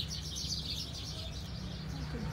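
Birds chirp and twitter in a high, continuous chorus at a garden nursery of ornamental plants, heard at moderate distance over a low steady background murmur.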